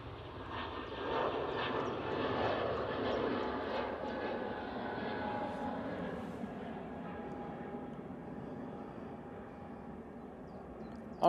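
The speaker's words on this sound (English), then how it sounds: "And we've got Dreamliner coming out." A Boeing 787 Dreamliner takes off at Manchester Airport, a moderately distant engine roar that swells early and then fades, with a faint whine trailing off and no speech.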